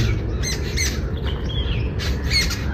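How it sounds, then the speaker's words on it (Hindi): Birds in a large Delhi park give repeated squawks and chirps in short bursts, clear and fairly close, over a steady low outdoor rumble. "पक्षी है यहाँ पे और ये चहचहा रहे हैं काफी अच्छे से"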